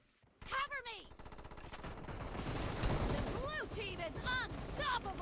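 Rapid bursts of gunfire in the mobile battle-royale game PUBG Mobile, dense and loud for several seconds, with excited players talking over the shooting.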